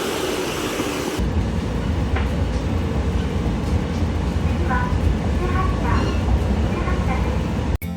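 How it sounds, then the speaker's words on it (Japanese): A colorful Sangi Railway train pulls into a station, its steady low rumble and rolling rail noise filling the scene after a brief quieter start, with faint higher squeals and clatter. "はい、カラフルな電車がやってきましたね。"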